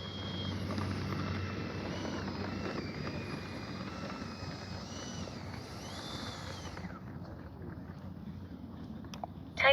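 A Freewing A-4 Skyhawk 80mm electric ducted-fan RC jet spools up for takeoff, a steady loud rushing whine with rising and falling tones that fades away after several seconds, leaving faint outdoor background.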